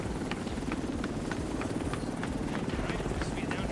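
An extraction helicopter in the video game The Division 2, rotor thumping in a steady rapid chop close by while a voice speaks over it.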